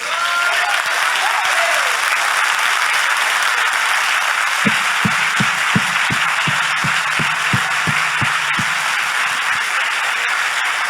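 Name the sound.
congregation applauding during a church service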